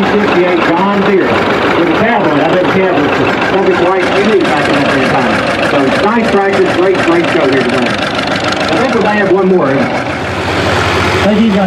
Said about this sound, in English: an 820 1958 John Deere. It is a has a 514 plow behind it.